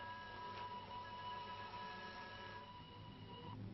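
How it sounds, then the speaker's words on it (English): Steady, muffled mechanical rumbling with faint sustained tones runs continuously in a 1941 ghost-train horror film, suggesting a train thundering down a valley without a clear approach or whistle. "It is a train. Thundering down the valley."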